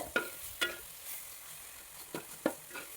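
A Kerala-style chicken and potato roast base is stirred in a pan: a few distinct spatula scrapes over a soft, steady sizzle, close up and without speech.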